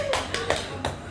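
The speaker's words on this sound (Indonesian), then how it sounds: "Hebat, tepuk tangan dong, tepuk tangan." A few hand claps ring out in quick succession, close and fairly loud, over a brief moment in a casual indoor chat.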